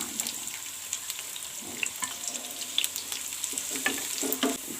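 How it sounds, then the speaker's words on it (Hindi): Onions sizzle and crackle steadily in hot oil in a pan while iftar fritters are prepared, a continuous close frying hiss broken by small pops and stirring scrapes, with no talk. "अब हम इसमें डालेंगे प्याज"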